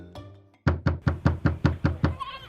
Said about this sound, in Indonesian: seseorang mengetuk pintu dan berteriak dengan suara kasar